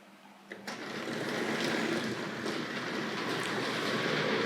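A Hornby Dublo model tank locomotive runs on its track: after a soft click the motor starts, settling into a continuous close, rattling whir with faint wheel clatter.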